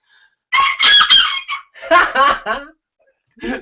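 Chickens on open ground give bursts of loud, close clucking and squawking calls, with a rooster-like crow among them, in several separate clusters with short quiet gaps between.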